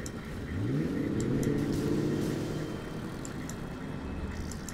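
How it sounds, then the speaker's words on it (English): Toxin tractor from the video game C&C Generals Zero Hour, its engine revving up with a rising whine that swells, holds and then settles into a steady hum. "Toxin tractor."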